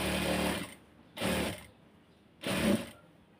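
A sewing machine stitches a kameez in three short, whirring bursts with brief quiet gaps between them, close and fairly loud.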